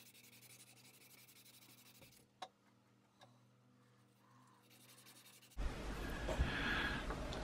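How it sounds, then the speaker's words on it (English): After a quiet stretch with a couple of light taps, a close, scratchy rubbing sound starts up and continues steadily as cloth-backed abrasive is worked by hand over a bog oak knife. "I was wrapping cloth backed abrasive round it to remove any angles and flat spots"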